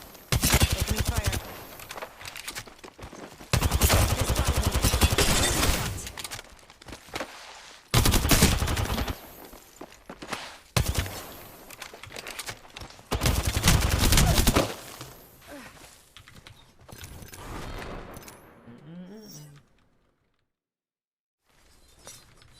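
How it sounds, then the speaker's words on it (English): Rapid gunfire from KovaaK's, an aim-training shooter game, comes in loud, dense volleys separated by brief pauses, then thins out and falls silent near the end. "Opening fire."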